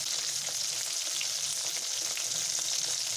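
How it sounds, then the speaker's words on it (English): Chicken fries in oil over a low flame, giving a steady, even sizzle with light crackling throughout, close and continuous with no talk. "Fry it golden in color. Cook it in low flame"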